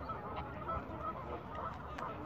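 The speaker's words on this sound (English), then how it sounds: "The geese are still here." Geese honk softly on a lake at Fairlop Waters, faint scattered calls at a distance over low background noise.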